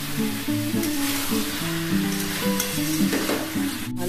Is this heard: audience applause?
no